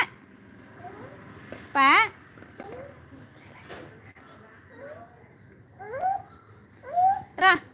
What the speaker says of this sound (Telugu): డాగ్ వచ్చింది డాగ్ వచ్చింది